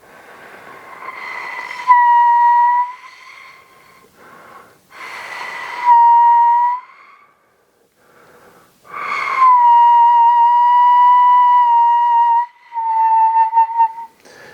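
A Māori taonga puoro wind instrument is blown in several breathy bursts, some settling into a clear sustained hooting tone, with short pauses between them, close and fairly loud.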